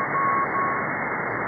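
A Morse code signal received on an SDR radio: short steady tone bursts sit over a constant band-limited hiss of radio static, faint and with no talking.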